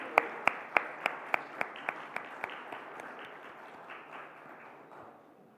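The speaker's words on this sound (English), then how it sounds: "Can we have a round of applause, ladies and gentlemen?" Audience applause at an agriculture summit starts as a few distinct, evenly spaced claps that soften and blur into a faint, thin patter fading away over several seconds.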